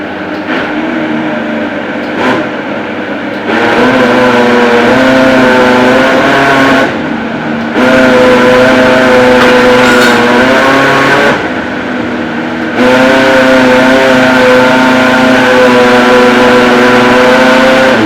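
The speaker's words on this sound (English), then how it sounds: "Then take it down to the blender to smooth very well." A kitchen blender whirs steadily as it purées beans with added water into a smooth paste, running loud and continuous with brief pauses between bursts and no talking.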